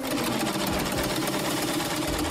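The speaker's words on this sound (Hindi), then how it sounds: "ये बहुत अच्छा है, अब सिलाई करते हैं।" A sewing machine runs steadily for about two seconds, stitching a seam in fabric with a fast, even mechanical chatter, close and alone.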